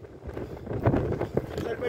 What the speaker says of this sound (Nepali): ओहो हावा लाग्यो